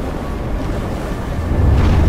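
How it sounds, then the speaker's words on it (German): Gusting wind in the snowy world of the video game Never Alone, a steady loud broadband rush with low rumbling that swells slightly toward the end, with no talking. "Das Einzige, was stört, ist der Wind."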